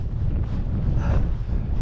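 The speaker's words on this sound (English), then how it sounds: "This wind is brutal." Strong, gusty wind buffets the microphone on a Lake District mountain summit during hail, a loud continuous roar with no voice heard.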